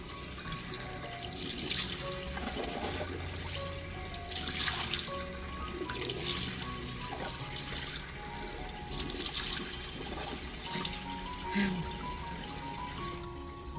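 Tap water runs steadily into a sink as someone washes their face during a morning routine in an Indian home, a continuous splashing stream with brief louder surges.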